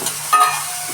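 Spices including cardamom and kasuri methi fry in a pan for veg biryani, a short close sizzle with a stirring scrape in the middle and no voices.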